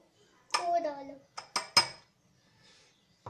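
Spoons and dishes clink in a few sharp, close taps while homemade ice cream is served at home, following a brief voice at the start.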